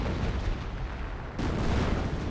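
25-pounder artillery firing in Company of Heroes amid dense battle noise: a rumbling wash of distant booms, with a sharper, louder blast midway followed by continued heavy rumble.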